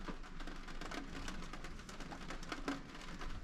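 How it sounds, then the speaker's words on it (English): Steady rain falls at Uluru, a soft, even hiss with scattered drop patters, faint and continuous with no voices. "It's been raining all night."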